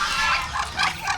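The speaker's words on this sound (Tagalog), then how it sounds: "Yan yung nanay ng pato" A mother duck gives a few quick, nasal quacks close by, short harsh calls in a rapid uneven burst.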